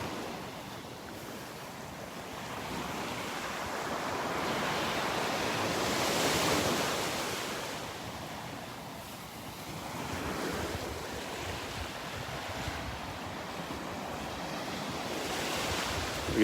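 Surf washes onto a deserted beach on a windy morning, the roar of breaking waves swelling and fading in slow cycles with wind buffeting the microphone.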